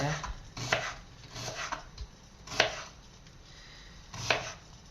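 Onions are chopped coarsely on a board with a knife, a handful of distinct thuds in an uneven rhythm, close and fairly quiet with clatter between strokes.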